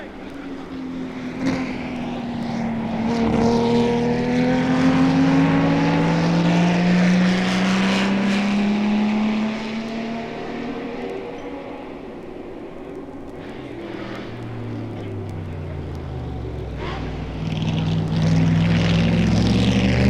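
Ferrari race cars lapping the Le Mans circuit at night in 1964, engines droning loudly with rising and falling pitch as they pass, several sweeps overlapping into a sustained roar.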